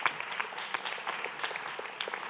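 Audience applause at an evening event in honour of the interpreters, a steady patter of many hands clapping, fairly faint and distant, with no voices over it.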